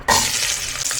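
Garlic hits a hot pan alongside searing beef for a sour beef soup, bursting into a sudden loud sizzle that holds steady for a moment.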